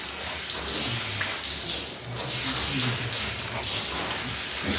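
Water poured in a steady, splashing stream with uneven surges and drips, close and fairly loud, continuing throughout without any voices.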